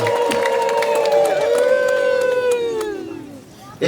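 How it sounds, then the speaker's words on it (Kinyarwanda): Wedding congregation at a religious marriage ceremony erupts in loud, sustained high-pitched ululation with applause and cheering, dense crowd voices filling the whole stretch before a brief drop near the end. "mubanze mumpera Imana impundu n'amashyi"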